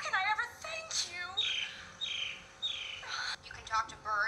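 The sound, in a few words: birds chirping in a musical scene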